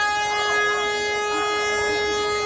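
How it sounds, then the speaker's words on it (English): Wailing sirens outside a stadium sound steadily throughout, with sustained tonal horn-like lines over a constant wash of outdoor crowd and traffic noise. "there are quite a lot of sirens and noise"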